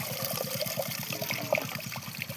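Leafy greens being washed in a basin of water, with steady sloshing and trickling and a soft rhythmic swish repeating throughout, close and moderately quiet.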